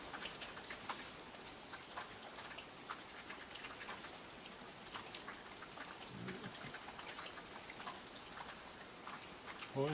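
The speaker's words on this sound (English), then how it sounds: "And it's foggy and it's raining." Rain falls steadily on a foggy, pitch-black night, a soft continuous hiss scattered with close ticking drops and patter on nearby surfaces.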